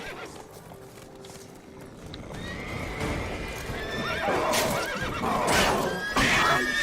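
Horses whinny and snort several times amid hoof clatter and commotion in the video game The Witcher 3: Wild Hunt, the neighs growing louder and more frantic toward the end.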